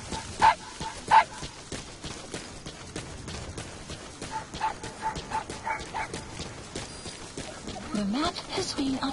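A wild dog pup in the Metal Gear Solid V video game gives a few short, high yips and whimpers, two sharper barks early, then softer scattered cries, with game sounds and chatter around them.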